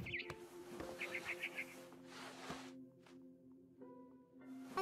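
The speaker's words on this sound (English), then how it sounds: "Then I heard chirping outside my window. It was a barn swallow going back to her nest." A barn swallow chirps in the video game What Remains of Edith Finch, a short run of quick high tweets over a low ambient hum with scattered soft knocks.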